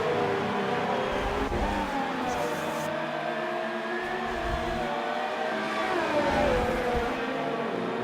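Race cars battle for position at the Spain Grand Prix, their engines whining in a loud, continuous high-pitched drone that rises and falls as they accelerate and pass, with faint commentary underneath.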